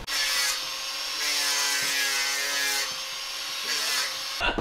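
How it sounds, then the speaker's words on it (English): A power drill bores holes into a wooden hull plank during boat rebuilding, a steady loud whining drone with brief dips and restarts, close by and alone. "So we're gonna start drilling now."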